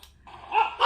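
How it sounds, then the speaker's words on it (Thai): A dog barks once or twice at close range, the sharp yelps building toward the end of a brief moment with no talking. "เสียงหมาเห่า"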